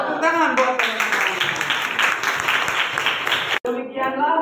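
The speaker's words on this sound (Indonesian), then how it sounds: "Tepuk tangan buat teman-teman." Classmates in a 10th-grade AKL classroom clap together in steady, dense applause for the whole stretch, briefly cut off near the end before clapping resumes, with voices mixed in.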